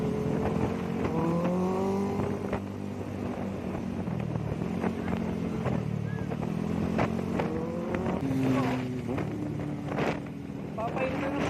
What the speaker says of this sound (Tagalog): Papainit na ng makina yung mga yun eh.